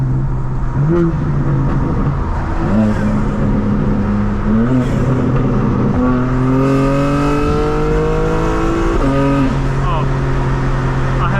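At a night car meet, a 2024 BMW M4 Competition xDrive is revved repeatedly, its exhaust note rising and falling in several loud, close pulls, with a voice speaking at times over the engine.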